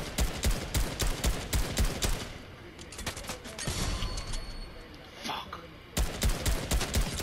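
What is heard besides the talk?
gunfire in the video game Fortnite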